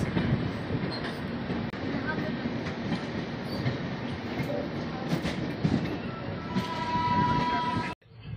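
A train halted at Barauni Junction beside the Gwalior Barauni Mail gives a steady rumbling station background with clanks and rattles, then a rising tonal hum before the sound cuts off abruptly, and a voice talks faintly under it.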